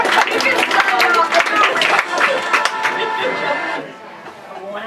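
A live audience applauding two blacksmiths, dense clapping close and loud for several seconds, then thinning and fading with some crowd murmur underneath.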